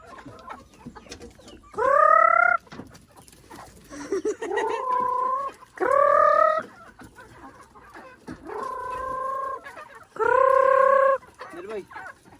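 Chickens on a rural province farm cluck and call in five loud, tonal bursts spaced a couple of seconds apart, close by, with quieter farmyard background between them.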